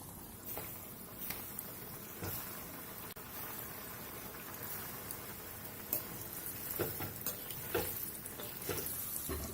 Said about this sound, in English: Time to deep fry the koftas. The oil is hot.